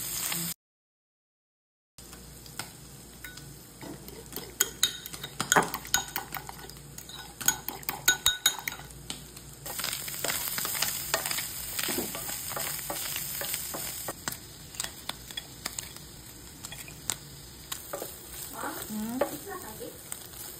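Slices of Spam fry in oil in a pan with a steady close sizzle, punctuated by scraping and clinks of a utensil stirring and turning the meat.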